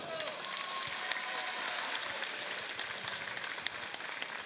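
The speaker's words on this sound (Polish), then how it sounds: "Wielkie brawa, Daniel Magical!" Audience applause after a fight, sustained clapping from a crowd at moderate distance, with voices mixed in beneath the steady patter.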